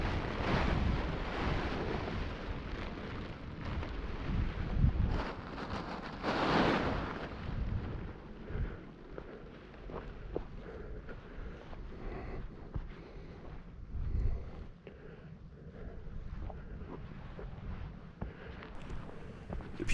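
Wind gusting across the microphone at the Ormont paragliding takeoff, a steady loud rumbling buffet that swells and fades over twenty seconds with no voices.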